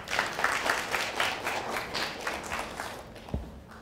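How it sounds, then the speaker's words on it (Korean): Audience applause welcoming a guest onto the stage at a software recruitment festival talk show, lively clapping with distinct individual claps that thins out and fades near the end, followed by a soft thump. "박수 부탁드리겠습니다."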